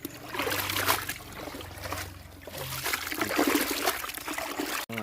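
Water splashes and trickles continuously as fish are rinsed by hand in a basin to make fermented fish paste, a close, busy sloshing sound with no voices.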